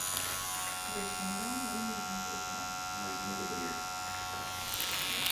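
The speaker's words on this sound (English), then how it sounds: "So I'm going to tattoo the first pass on" A tattoo machine fitted with a 3 round needle works during ombre brow tattooing, giving a steady, close electric buzz that holds without a break for the whole stretch, with a faint voice murmuring underneath.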